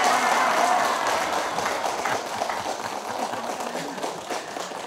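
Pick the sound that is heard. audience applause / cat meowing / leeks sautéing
audience applause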